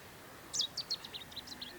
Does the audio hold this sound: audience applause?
no